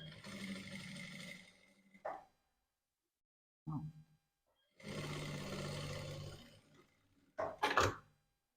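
A sewing machine stitches a lace bra cup in two whirring runs of a couple of seconds each, separated by quiet gaps and a few short handling knocks.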